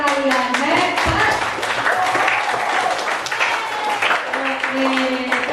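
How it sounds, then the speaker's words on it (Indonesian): A year 7 science class claps for classmates after their water purifier presentation, with brisk, close applause running throughout and a voice speaking over the clapping. "Tepuk tangan untuk kalian,"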